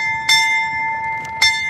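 A ship's bell is struck for four bells at a United States Navy retirement ceremony, with two clear metallic rings a little over a second apart, each leaving a long, steady ringing tone.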